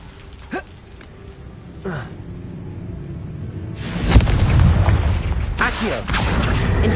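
A Confringo fire-blast spell erupts in the Hogwarts Legacy video game as a couple of heavy, booming explosions with rumbling tails, loud and close.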